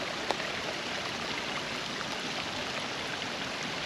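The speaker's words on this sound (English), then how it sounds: "That's that fast babbling brook thing that we like listening to." Fast-running brook in a ravine after a storm, a steady broadband rush and babble of water, continuous and moderately faint with no voices.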